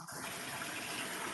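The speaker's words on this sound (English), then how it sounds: "we're adding a lot of water right now" A washing machine drawing in water during its fill cycle, a faint, steady gushing and rushing stream that runs on continuously without pause or voices.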